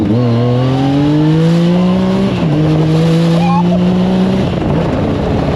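A Yamaha YXZ 1000 side-by-side engine roars close and loud at full throttle, its pitch climbing through a gear, dipping at the shift, then climbing again under constant wind and drivetrain noise.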